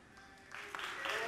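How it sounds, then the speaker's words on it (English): Audience at an E3 2016 PC gaming showcase clapping, with applause swelling from a scattered start into fuller, louder clapping over about a second and a half, blended with crowd murmur. "Yes, you're allowed to clap."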